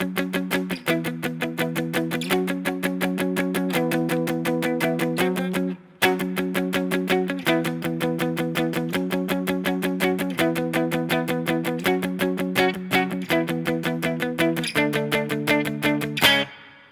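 A distorted electric guitar chugs a rapid, evenly strummed power chord riff from a song, the chord shifting every couple of seconds with one brief pause, loud, close and without talking.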